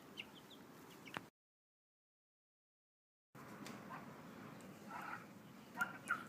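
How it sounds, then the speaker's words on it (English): Turkeys make a ruckus some distance away, with faint clucking and squawking calls in two stretches separated by a couple of seconds of dead silence. "Can you hear those turkeys making a ruckus in the background?"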